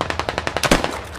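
Automatic gunfire in the military shooter game Squad, a rapid burst of about a dozen sharp shots at a steady rhythm, loud and close, with a heavier blast near the end.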